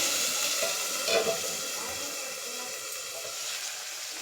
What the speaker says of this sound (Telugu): ఇక్కడ మన ఆనియన్ పేస్ట్ చేసుకుని వేసేసాను. ఇది కొంచెం మనకి ఫ్రై అవ్వాలి